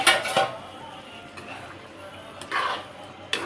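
Spoon stirring garam masala into palak paneer in a pan, where oil has risen to the surface: a few short, near scraping and clinking strokes against the pan, separated by quiet pauses.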